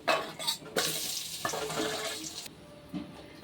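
Okra (bhindi) frying in oil in a kadai, a steady broadband sizzle with stirring clatter and shifting bursts, close and moderately loud, no talk.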